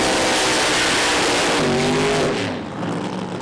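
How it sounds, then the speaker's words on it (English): A Pro Mod drag racing car at the British Drag Racing Championship roars close and loud, its engine note climbing, then easing off as it pulls away. "spins the tyres off the start and gets back on the throttle, but Andy Robinson is long gone"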